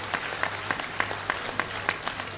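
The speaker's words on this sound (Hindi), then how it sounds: "एक बार जोरदार ताली बजा करके साधुवाद दो" A crowd at a Bageshwar Dham religious gathering in Palwal, Haryana, claps in a steady rhythmic unison beat, roughly three claps per second, loud and sustained with no talking over it.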